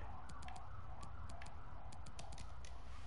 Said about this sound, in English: I apologise for the ambulance, if you can hear it.